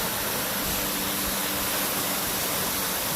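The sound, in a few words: Fall Creek Falls waterfall, Umpqua National Forest, Oregon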